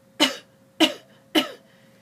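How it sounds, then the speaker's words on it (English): Three quick, sharp chest coughs at an even rhythm, close and loud with short silences between them. "It means to cough quickly from the chest"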